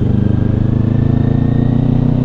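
A Kawasaki Ninja 400 motorcycle engine drones steadily and close up with a pulsing, throbbing rhythm while being ridden, no voices heard.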